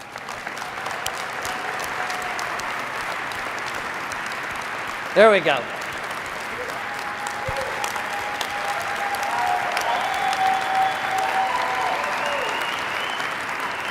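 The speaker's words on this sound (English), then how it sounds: "let's give them a round of applause" Sustained applause from a keynote conference audience fills the whole stretch, a steady wash of clapping with a brief spoken phrase over it.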